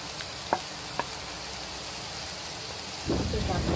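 Three finely chopped onions frying in butter in a pan for a mushroom sandwich: a faint sizzle with two sharp clicks early on, then a louder burst of crackling sizzle near the end.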